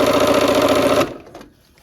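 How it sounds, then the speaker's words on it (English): Sewing machine stitching quilt sashing strips, a close, loud, rapid mechanical whir that runs for about a second and then stops abruptly, leaving a faint tail. "we're just sewing them into long sashing strips."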